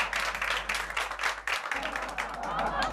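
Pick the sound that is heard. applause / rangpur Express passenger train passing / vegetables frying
applause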